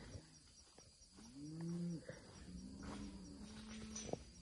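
Cattle on a farm being let out into a hay field, with several drawn-out moos rising and falling in turn, fairly close, over faint insect chirping in the background.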